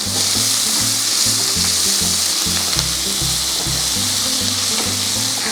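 Two medium onions dropped into hot oil with mustard seeds, cumin and a little fenugreek for a yam curry, giving a loud, continuous sizzle with a rhythmic low thumping underneath.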